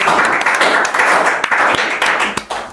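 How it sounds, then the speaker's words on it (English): An audience applauds panelists after a discussion in a loud, full burst of clapping, with a few sharper claps standing out near the close. "A round of applause."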